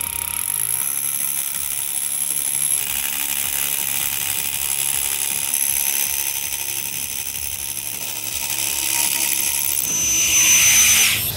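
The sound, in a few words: drill boring a pilot hole for an undercut anchor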